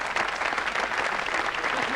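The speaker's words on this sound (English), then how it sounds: "look at that applause" Studio audience on a television game show gives a dense, even round of applause, many hands clapping continuously at close range.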